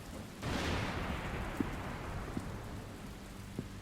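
Rain in a storm swells in quickly and settles into a steady downpour, with a low rumble underneath and a few faint knocks, heard alone without any voice.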